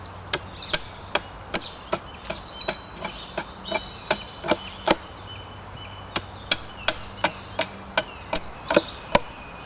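Wood chopping as the corners are knocked off a square wooden blank to form an octagon for a stool tenon: a steady run of about twenty sharp, close, loud chops, evenly spaced, with no talk.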